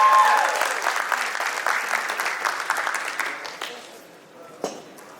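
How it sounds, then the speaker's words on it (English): Audience applause at a tech session during a women's technology conference, a room of steady clapping that thins and fades toward the end, with a brief louder clap near the close and some voices mixed in. "Let's go ahead and give Dr. Idemudia a round of applause."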